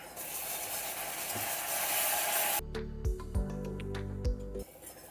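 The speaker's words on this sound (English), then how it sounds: "now we whisk for another 10 minutes" Caramel and heavy cream are whisked over a low flame in a pan, giving a steady, close hiss with a sizzling, bubbling texture that runs for a few seconds before giving way to other sounds.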